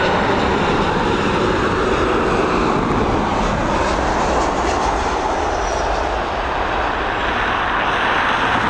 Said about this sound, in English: this Boeing 737 coming in from Barcelona